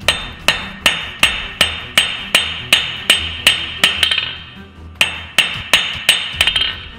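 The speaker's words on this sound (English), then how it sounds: "we can work the taper back" Steel taper being forged on an anvil with a hammer: a steady run of sharp, ringing metallic blows about twice a second, close and loud, with a brief pause before the strikes resume.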